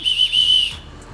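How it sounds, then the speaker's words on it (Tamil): A shrill emergency survival whistle from a camping and trekking kit sounds close and loud in one sustained blast with a couple of quick breaks, stopping abruptly before a quiet tail. "எமர்ஜென்சிக்கு யாராவது கூப்பிடணும்னா இப்படி விசில் அடிக்கணுமா?"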